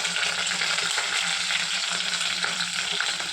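Mustard seeds, urad dal and green chili fry in hot oil in a kadai, giving a steady, dense sizzle with fine popping crackle throughout, close and even, with no voices.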